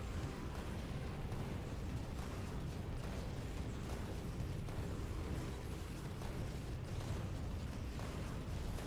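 Constant dense rumble of turret fire and explosions in Factorio, a steady loud wash of overlapping blasts and mechanical noise with no clear breaks.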